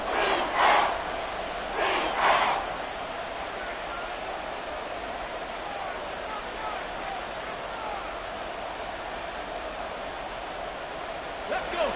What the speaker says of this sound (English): Here comes a big one as this crowd gets out making some noise.